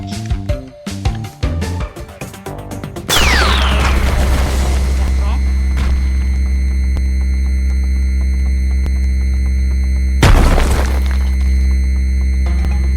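A laser fires in the Roblox game, a sudden loud sweeping zap that settles into a sustained buzzing hum, followed by a second burst near ten seconds, with game music beforehand.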